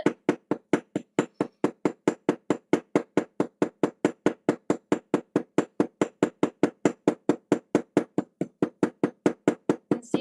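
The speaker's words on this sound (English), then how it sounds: "we use the small side of the hammer. And then slowly get that mushroom going from your rivet" Steady, rapid hammer blows on a rivet head, struck with the small side of the hammer to peen it into a mushroom shape, about four sharp metallic taps per second, close and even for the whole stretch with no talk.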